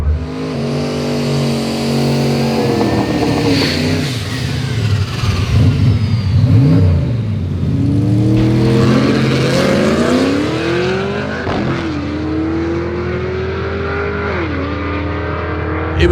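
A 408 stroker street car with a 750 carb accelerates hard on a drag pass. Its engine revs up through several gear changes with rising, falling pitch sweeps, loud and close throughout.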